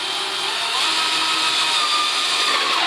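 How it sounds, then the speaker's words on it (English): A steady, loud power drill with a 1-inch spade bit boring a hole in the back of a light bulb whirs continuously at close range, its motor pitch holding level with a slight rise partway through. "I used a 1-inch spade bit drill to drill a hole in the back of the bulb"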